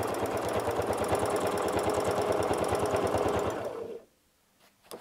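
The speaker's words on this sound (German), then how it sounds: "Und wir quilten aus der Mitte zu unserem obersten Punkt." A sewing machine quilts fabric along a template, stitching in a fast, steady, even rhythm at close range for several seconds before it stops abruptly into near silence.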